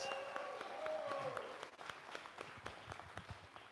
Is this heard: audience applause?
yes